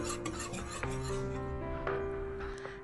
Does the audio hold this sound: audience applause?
no